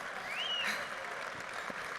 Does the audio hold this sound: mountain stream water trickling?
no